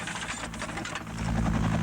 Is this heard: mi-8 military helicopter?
yes